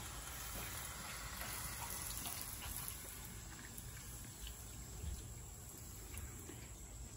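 Beef broth poured into a pot roast pan on a Weber kettle grill, a steady close liquid pour and splash running without pause throughout.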